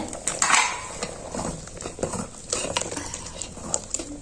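Spices are poured into khichuri cooking on an outdoor stove, giving soft scattered patters and light clinks of metal utensils against the pot, fairly quiet and uneven.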